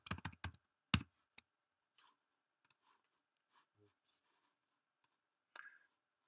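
Typing on a computer keyboard while working in Adobe Animate: a quick burst of close, crisp keystrokes, then scattered faint taps and clicks with a small cluster near the end.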